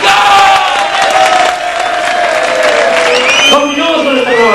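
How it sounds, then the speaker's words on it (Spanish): A crowd at a live rave cheers and applauds loudly under an announcer's amplified voice, with whistles and shouts rising through the noise. "Un aplauso para ellos"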